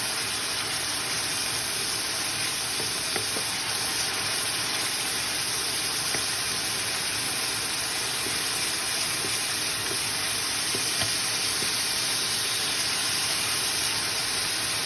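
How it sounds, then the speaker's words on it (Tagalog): Onions sautéing in a pan for pork mechado give a steady, even hiss that runs unbroken for the whole stretch, with faint scattered crackles and no voices. "Gisa lang natin ito hanggang sa maluto yung ating sibuyas."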